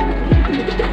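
A racing pigeon gives a single low, drawn-out coo close by in a Quezon loft, with faint background noise around it and no talk.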